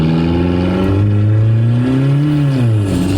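A turbocharged Toyota Camry engine pulls hard on the road, its droning note climbing steadily in pitch with a smooth rising whine as the turbo spools, loud and close throughout.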